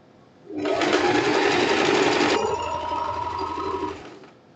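Sewing machine stitching a hem on thin fabric, one continuous close whirring run of about four seconds that starts abruptly, eases slightly partway, and stops cleanly.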